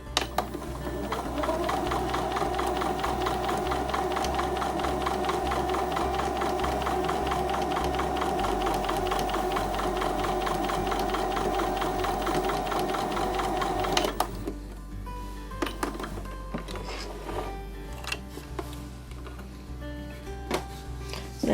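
A sewing machine stitches a quilt block, its needle running in a fast, steady mechanical chatter at close range, then slowing to a looser, intermittent rattle toward the end.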